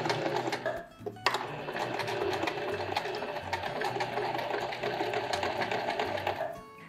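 A sewing machine runs steadily while stitching a skirt hem, a continuous whirring buzz that pauses briefly near the start and then carries on evenly until the end.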